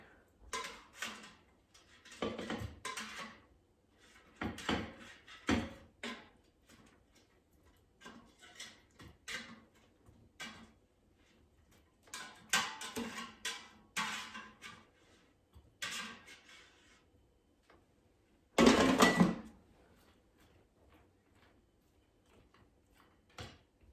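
Cooked steak bites being lifted out of an air fryer basket, with scattered clinks and knocks of metal utensils against the basket and one louder clatter near the end, close and intermittent.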